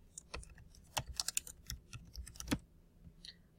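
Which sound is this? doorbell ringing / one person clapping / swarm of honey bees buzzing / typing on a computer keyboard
typing on a computer keyboard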